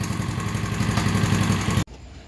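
A cheap Amazon mini bike's 99cc engine is pull-started and runs close by. It gives a loud buzzing, pulsing putter for nearly two seconds, then cuts off abruptly into quiet background.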